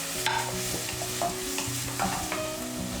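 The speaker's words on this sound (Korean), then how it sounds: "다음에 홍고추를 넣고 볶아주세요" Red chili stir-fried in a wok with shiitake, button mushrooms and bamboo shoots for hongshao tofu, a loud close sizzle with repeated rhythmic spatula scrapes and tosses about every half second.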